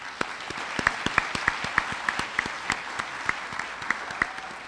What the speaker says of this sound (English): Let's give our color guard a round of applause